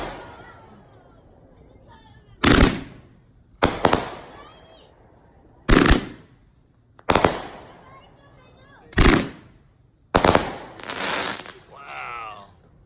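A 25-shot Red Apple fireworks cake fires after dark in six spaced, loud bursts with crackling tails, while people talk and cheer between the shots.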